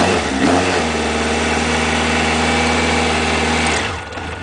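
A 1992 Yamaha FJ 1200 motorcycle engine idles steadily just below 1,000 RPM, a close, even, low hum with a smooth, constant drone that eases off slightly at the end.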